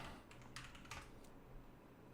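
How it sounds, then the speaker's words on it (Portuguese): A password being typed on a computer keyboard, with soft, quiet key taps in a short irregular run, faint behind a steady background hum. "Vou digitar minha senha aqui."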